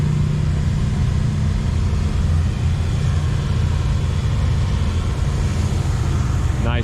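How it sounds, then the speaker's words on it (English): A Chevy 60 grain truck engine runs at a show in a loud, steady low rumble close by, with outdoor background noise and no clear variation in pace. "His grain truck just pulled up. Chevy 60."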